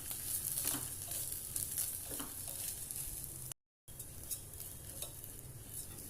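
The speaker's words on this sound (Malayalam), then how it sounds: "2 മിനിറ്റ് സമയം ഹൈ ഫ്ലെയിമിൽ വെച്ച് അരി ഒന്ന് വറുത്തെടുക്കാം." Washed Kaima rice fried over a high flame for prawn biryani, a continuous close sizzle with repeated scraping strokes of a spoon stirring the grains in the pan, briefly cutting out partway.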